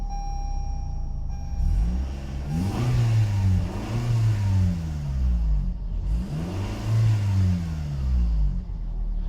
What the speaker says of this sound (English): let's hear the melody, or let's hear the voice of these Camrys